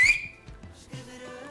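A person whistles a few short, shrill notes, with a sharp high blast at the start followed by softer pitched tones.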